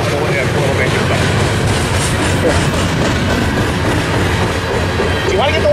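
Freight train on the Tehachapi line, led by CP 7012, rolls past in a steady, loud wash of rumble and rail noise with faint wheel clatter, continuous throughout.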